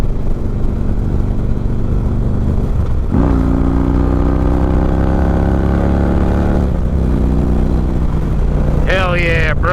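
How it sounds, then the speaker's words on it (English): A Harley-Davidson Road King fitted with an Ultima Dominator 2-1 exhaust rumbles loudly up close, then revs up in a rising throaty sweep, settles back to a steady note, and snaps through quick blips at the end. "I like the tone of this exhaust."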